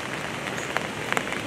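Steady rain falls at Washington Park Zoo in Michigan City, Indiana, a dense even hiss with a few sharper drops spattering close by.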